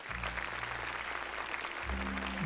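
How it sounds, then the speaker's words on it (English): Quiet clapping from a film plays faintly and evenly throughout, over a low steady hum with low tones underneath. "Don't clap."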